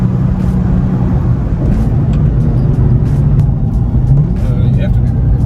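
Nissan 350Z driving up a hill with the window open, a steady loud engine and road roar filling the cabin, continuous low rumble with wind noise and no clear pauses.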